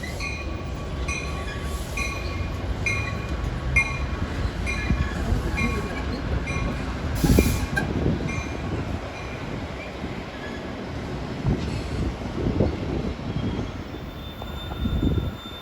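A passenger train on the Northeast Corridor at Linden, New Jersey, with an Erie-Lackawanna heritage locomotive at the rear, rumbles steadily past with a continuous loud roar of wheels and a brief sharper burst midway.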